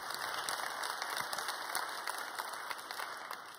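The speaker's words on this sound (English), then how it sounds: "Give Kalimah another round of applause." A conference audience gives a sustained round of applause at an evening plenary session, dense steady clapping filling the room throughout with no break.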